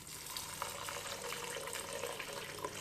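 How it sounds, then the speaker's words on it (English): Tap water runs steadily into a pot of pinto beans, a continuous soft hissing splash that stays faint and even throughout, with no talk over it. "I'm going to cover it back up with some water."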